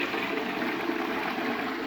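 Small flush of a Geberit toilet with a hidden cistern, water rushing and gurgling steadily into the pan at close range for a short burst.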